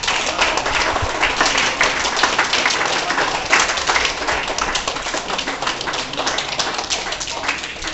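An audience at a karate championship prize distribution claps continuously, a dense, even wash of applause filling the hall, with voices faintly underneath.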